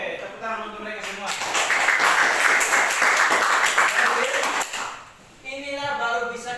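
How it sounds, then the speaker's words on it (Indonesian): A class of students bursts into a few seconds of lively clapping in a school classroom during an algebra lesson, with a teacher's voice heard just before and after the applause. "tepuk tangan untuk mereka semua"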